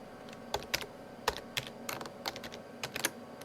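Password being typed on a computer keyboard during SSH key setup: a run of crisp, close keystrokes in an uneven rhythm, several distinct clacks over a few seconds with no talking.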